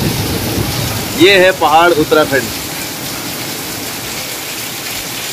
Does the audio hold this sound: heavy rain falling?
yes